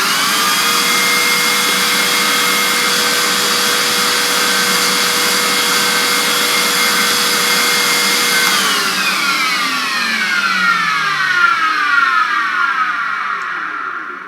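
A vintage 1980s Toshiba Carry Clean VC-410 vacuum cleaner runs with a loud, steady high-pitched whine and roar, then spins down near the end with the pitch falling away.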